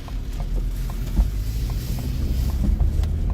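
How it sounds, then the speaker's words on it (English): Strong wind gusting outdoors during a tornado outbreak in Iowa, a steady low rumble of wind buffeting the microphone with no voices, continuous and loud throughout. "It's mighty, mighty windy out here."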